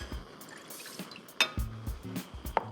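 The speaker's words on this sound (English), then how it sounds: "I've got half a cup of fresh lemon juice" Fresh lemon juice trickles and splashes into a pan in a quiet kitchen, with soft liquid pours broken by a couple of sharp clinks of cookware, close and faint, with no talk.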